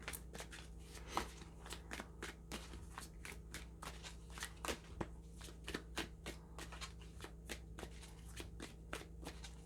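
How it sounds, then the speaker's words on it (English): A tarot deck being shuffled up close, a rapid series of crisp riffling snaps and flicks over a faint steady hum, fairly quiet. "One thing about this deck is that it's kind of hard to shuffle."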